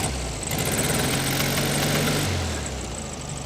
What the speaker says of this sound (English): an internal combustion engine with almost no emission controls in 1968